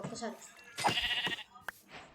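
A Minecraft sheep lets out a single wavering bleat in the middle of the clip, between bursts of a player talking.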